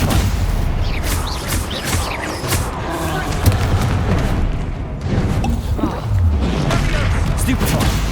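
Bombarda spell explosions burst amid a chaotic Hogwarts Legacy troll battle, with repeated booming blasts and crashes layered over constant combat noise while in-game voices shout spell names.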